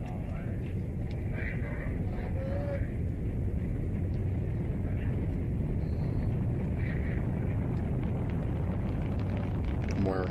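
A rocket launches with a continuous broad, rumbling roar that holds steady and loud from start to finish, with no clear pauses.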